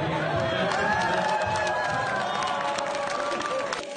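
Applause and cheering from a crowd at a Liberal Party fundraiser in Toronto, a loud, sustained roar of clapping and voices that fades slightly toward the end, with some talk mixed in.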